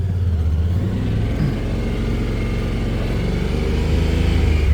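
A Honda Pioneer 1000 UTV (2022 or later) driving in two-wheel drive, its engine a loud, steady low rumble with a constant drone and only slight shifts in pitch, heard close up and alone.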